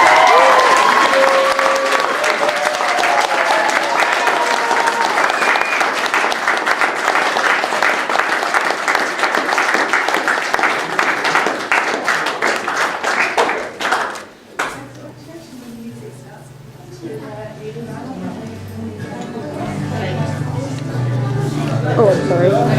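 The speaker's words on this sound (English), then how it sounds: "join with a huge round of applause as I introduce for the very first time Mr." Wedding guests break into loud, sustained applause with cheering for the newly married couple, then the clapping cuts off abruptly and voices carry on over quieter room sound.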